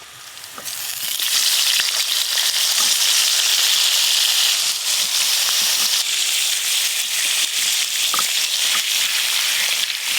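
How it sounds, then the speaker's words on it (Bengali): Raw hilsa fish pieces are set into hot oil without being fried first, giving a loud, continuous crackling sizzle with scattered pops that holds steady throughout. "এবার গরম তেলের ওপর মাছের পিসগুলো শুধু বসিয়ে দেব"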